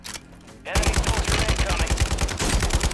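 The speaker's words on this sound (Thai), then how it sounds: "ยิงกันอยู่ข้างล่างว่ะ" Automatic gunfire in the video game Call of Duty: Warzone, a loud rapid burst of shots firing continuously for over two seconds after a brief quieter moment.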